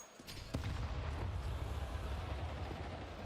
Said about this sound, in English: a frag grenade in your face